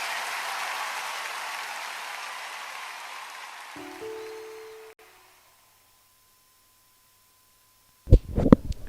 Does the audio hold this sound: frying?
no